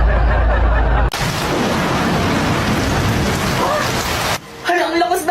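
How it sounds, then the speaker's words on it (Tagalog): Heavy rain pours down in a dense, steady roar for several seconds, loud and close, then stops abruptly, followed by quieter indoor sounds. "Hala, ang lakas ng ulan."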